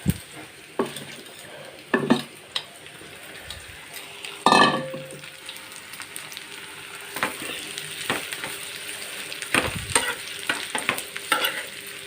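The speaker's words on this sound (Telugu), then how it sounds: "ఇప్పుడు ఇవి ఎర్రగా వేగాలండి ఇవి వేగటానికి మనకి ఒక పది నిమిషాలు పడుతుంది" Sliced bitter gourd fries in a modest amount of oil, a soft, steady sizzle broken by a few sharp clatters of a spatula against the pan, close by and without speech.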